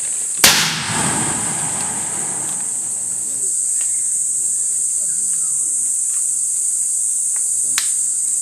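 Mortar fired at a 45-degree angle during a 2014 anti-Naxal operation in Jharkhand, India: one loud, sharp blast near the start with a rumbling decay, then steady outdoor insect buzz and a few faint distant pops.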